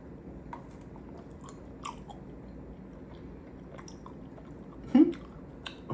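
A date is chewed close to the mouth, soft wet squishing bites repeating through a quiet background, with one brief louder bump near the end and no talk.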